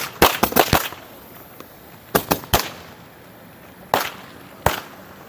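A Bazooka 180-shot firecracker cake fires off sharp, loud outdoor bangs in quick clusters of three and four, then as isolated single cracks with pauses between them.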